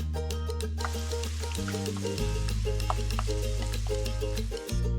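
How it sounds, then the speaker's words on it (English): Ground sausage sizzles steadily in a hot pan while a wooden spoon breaks it apart, a constant close crackle with scraping, stirring strokes and no talking. "Just use a wooden spoon to break it into really small pieces as it cooks."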